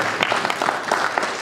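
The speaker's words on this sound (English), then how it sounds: "So I think let's give another round of applause to Mr. Karimanzira." Audience at a ZAPU party meeting claps in a brief burst, dense and close, lasting only a moment.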